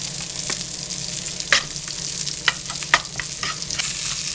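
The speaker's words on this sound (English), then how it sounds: "I'm going to add my asparagus beans over here. Put them down on low." Asparagus beans and salmon frying together in a pan, a close and steady sizzle with a few sharp crackles and spatters popping over it, and no talking.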